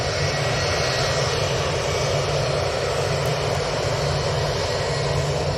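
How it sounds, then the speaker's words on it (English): A Singapore Airlines Airbus A350-900 landing at Manchester Airport gives a continuous broadband jet roar, loud and steady throughout with no pauses or voices. "So, Singapore A350-900 coming in."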